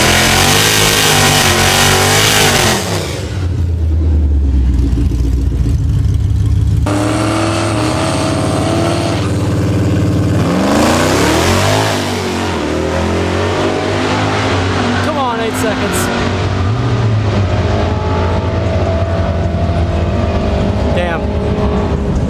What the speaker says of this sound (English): And there's our rear wheel drive Civic.